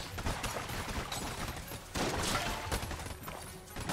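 Dense, rapid gunfire in the video game Enter the Gungeon, in the sewer level: continuous overlapping shots and impacts, loud and busy, with no pause.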